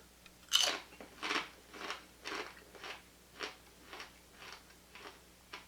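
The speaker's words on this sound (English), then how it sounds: "I don't know if you can hear me crunching on those, but they're super crisp." Crisp, thick sweet snack pieces crunched between the teeth, about eight distinct bites and chews in a steady rhythm, close to the microphone and alone without talk.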